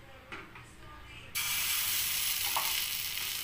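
Pesarattu batter hitting a hot oiled pan, starting with a sudden loud hiss that settles into a steady, bright, close sizzle. A few soft clinks come before it. No voices.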